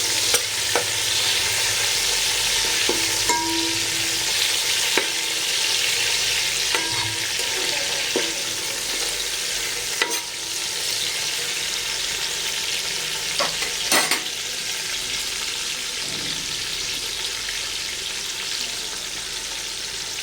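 Whole spices such as mace and bay leaf sizzle steadily in hot oil for a vegetable biryani, a continuous frying hiss with occasional soft stirring clicks, close and alone with no voices.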